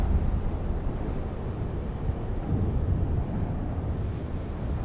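Steady wind rushes and buffets over the Sulawesi landscape, a dense low roar that never lets up.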